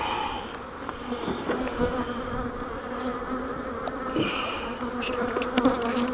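Honeybees swarm around hive boxes during a spring inspection, a steady close droning hum that fills the whole stretch, with a few louder passes near the listener and no talk.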